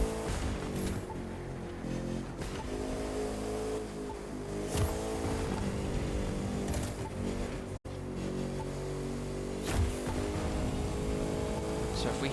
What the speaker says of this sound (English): we hit nitrous throughout here